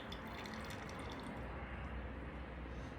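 Wine pours from a wine preservation dispensing machine in a faint, steady trickle that runs without a break.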